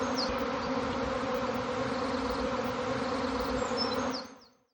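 Honeybees buzzing at a beehive entrance with pollen coming in, a steady close drone of many wings that holds evenly before fading out at the end.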